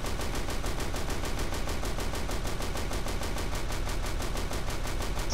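Rapid automatic gunfire from the Warhammer video game fills the whole stretch as a dense, loud, unbroken stream of rattling shots, with no talk over it.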